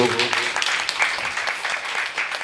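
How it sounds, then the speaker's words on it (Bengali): A crowd at a jatra folk-theatre honouring ceremony breaks into dense, lively applause, many hands clapping continuously and close, mixed with voices. "হাততালিটা একটা জোরে হোক"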